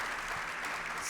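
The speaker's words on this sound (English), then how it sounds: "Give our panelists a round of applause" Brief, steady wash of audience applause for panelists at a women's health innovation series event, with continuous clapping and no pause.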